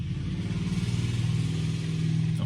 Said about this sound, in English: somebody cut their exhaust pipes off and drove by the shop at full speed